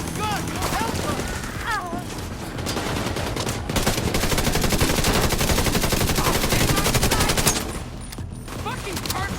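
A heavy gun in The Division 2 fires in sustained, loud automatic bursts for most of the stretch, easing off near the end, while voices talk over the shooting.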